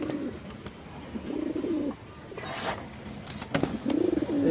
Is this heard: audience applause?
no